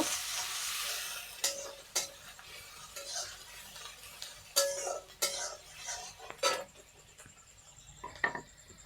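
Onion and garlic paste frying until brown, a soft sizzle with intermittent spatula scrapes and metallic clinks against the pan, close and fairly quiet, with no voices.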